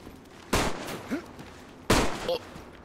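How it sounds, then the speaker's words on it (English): Two loud single gunshots ring out in the survival video game DayZ, about a second and a half apart, each with a sharp crack and a short rolling tail over a quiet background. "someone shooting"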